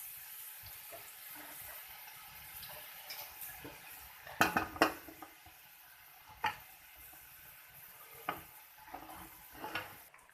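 Boiled rice tipped into a hot pan and stirred for egg fried rice, a soft continuous sizzle with scraping and clinking of utensil against the pan, a few sharper knocks near the middle, no talking.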